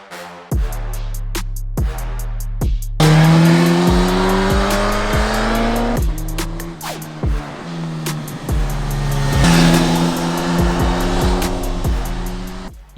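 Suzuki GSX-S1000 2023 naked motorcycle on a road test ride, its engine revving loud and close through repeated gear changes, pitch climbing and dropping with each shift and sharp rises in acceleration.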